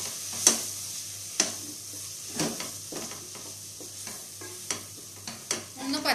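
Spices being stirred into mutton bone curry in a pan, with scraping strokes of a spoon at irregular intervals over a low, steady sizzle, close and clear with no talking.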